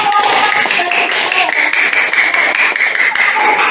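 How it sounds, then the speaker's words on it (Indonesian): Students clapping hands in a classroom after a group presentation, a steady dense patter of many hands filling the room, continuing throughout with some background voices. "Silakan tepuk tangan"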